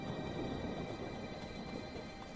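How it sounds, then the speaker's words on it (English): Rain sound effect laid over a playing clip, a dense steady patter and hiss of rainfall with a low rumbling undertone, continuous and even, with no voices. "It's got the rain sound on top."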